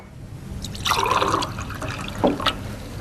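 Cold water is poured into a glass beside a tea bag, a splashing, filling trickle that swells and fades across a few seconds, with a couple of sharper drips near the end.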